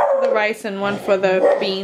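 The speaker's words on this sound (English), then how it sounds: "I'm so sorry for my dogs in the background." Several dogs yip, whine and howl in bursts indoors, the cries loud and close and overlapping with someone speaking throughout.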